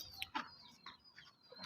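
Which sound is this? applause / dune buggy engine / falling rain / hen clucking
hen clucking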